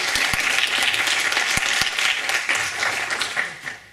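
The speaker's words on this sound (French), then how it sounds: "Je vous demanderai de l'applaudir s'il vous plaît pour la rentrée." An audience applauds, a dense wash of clapping with a few sharp individual claps standing out, fading slightly toward the end.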